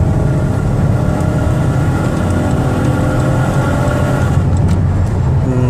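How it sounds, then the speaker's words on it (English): A 2017 Dodge Caravan wheelchair minivan accelerating on a road in light rush-hour traffic, its engine a steady loud drone with low rumble and road noise throughout, no talking. "I'm gonna give it some gas so you can hear it run"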